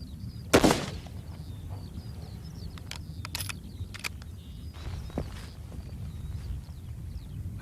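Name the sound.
sniper rifle shot, headshot from 200 meters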